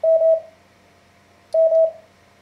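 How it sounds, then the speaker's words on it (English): Two Morse code letter M tone groups, each a pair of steady beeps run close together, separated by a pause of about a second, clean and near with no talking. "he'll alternate sending K's and M's"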